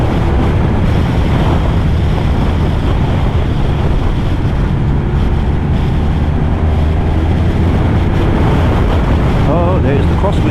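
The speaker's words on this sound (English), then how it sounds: "Oh, there's the crosswind again." Strong crosswind buffets and roars across the microphone while riding a Honda VFR1200F DCT motorcycle on roads around Sydney, a loud, unbroken rushing blast with engine rumble underneath.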